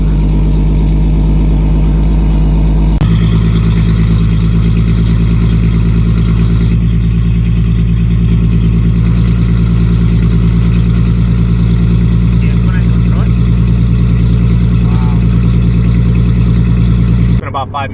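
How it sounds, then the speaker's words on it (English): Nissan Z running with a tack-welded silencer on its exhaust tip, giving a steady, loud low-pitched engine drone with even mid-range hum, continuous throughout and ending abruptly. "It's been about 5 minutes driving the Z with the tack welded exhaust tip"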